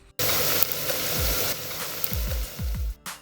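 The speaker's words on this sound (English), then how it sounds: "The ghee is hot. In go the cumin seeds and the black cardamom. Now the mutton." Mutton pieces hit hot ghee with cumin seeds and black cardamom and sizzle loudly and steadily, with a few low thumps and clatters of pieces dropping into the pan near the end.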